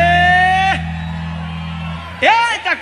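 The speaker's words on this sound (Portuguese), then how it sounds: "Cadê o gritinho de quem tá feliz?" A live crowd at a Brazilian band's concert in a Rio de Janeiro choperia whoops and shouts in short bursts over a sustained band note and a humming low drone, the cheering swelling briefly near the end.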